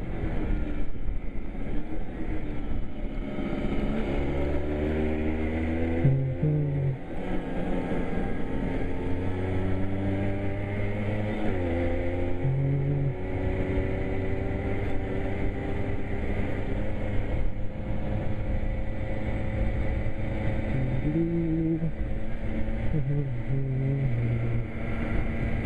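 A small moped engine drones continuously while riding, its pitch rising and dipping with throttle changes, with wind rush and no talking.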